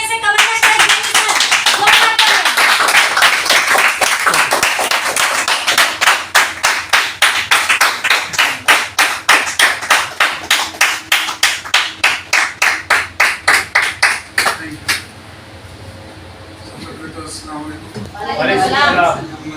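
An indoor audience at a motivational program claps loudly in unison for about fifteen seconds, building into a fast, even rhythm of sharp claps before cutting off, after which a voice speaks.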